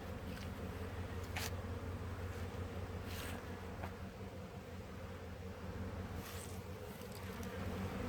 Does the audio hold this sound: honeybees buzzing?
yes